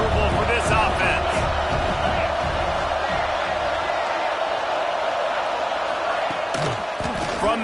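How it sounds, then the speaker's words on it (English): A stadium crowd roars at a football game, a loud dense wall of cheering and noise holding steady throughout, with a commentator's voice talking over it. "This crowd trying to make life miserable for this offense."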